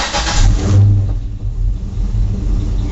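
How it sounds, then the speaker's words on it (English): A 1969 Chevrolet Camaro with a swapped LS engine cranks and fires up, catching with a loud rev that settles into a steady, rumbling idle close by. "now I'm gonna start the car up, and it should go right off"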